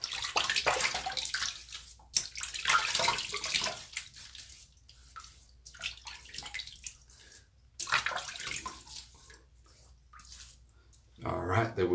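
Water runs from a bathroom tap while cheeks are wetted before a shave, a steady broadband splashing that comes and goes in bursts with quieter gaps and swells again at the end.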